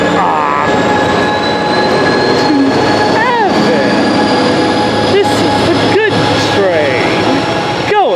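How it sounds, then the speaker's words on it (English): Amtrak train 777 pulls out of Fullerton station bound for San Luis Obispo, a steady loud rumble with squealing wheel tones and a horn-like tone running through it, while a person speaks over it. "Train 777 now headed to San Luis Obispo and heaven"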